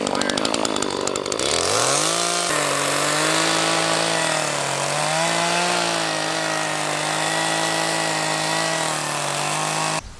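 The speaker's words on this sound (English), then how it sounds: "I think they're gonna fire the chainsaw up." A chainsaw fires up with a brief pull-start rattle, then revs into a loud, steady, droning buzz close by, its pitch wavering slightly as it cuts wood for a large tiger enclosure.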